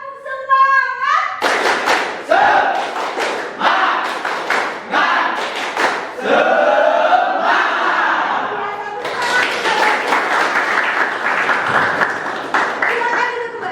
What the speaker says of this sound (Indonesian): kita harus melakukan dulu tepuk semangat dulu